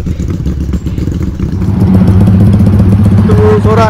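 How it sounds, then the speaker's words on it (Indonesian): A motorcycle engine runs loudly and close by, its rough idle building into a steadier, heavier rumble, with a voice briefly heard. "Motor dia bising eh. Motor dia bising."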